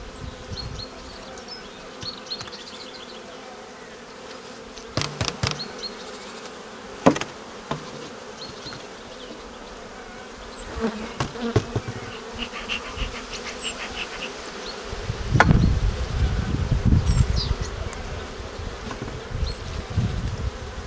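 Honeybees buzz steadily around an open Ukrainian-Alpine hive during the first spring brood-nest expansion, a dense close hum with scattered knocks and clunks of frames and hive parts, growing louder near the end.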